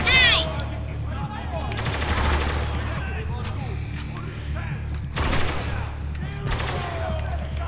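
Gunfire in the shooter game Spec Ops: The Line: loud bursts of automatic fire and single shots come in several clusters, with shouted combat voices in between.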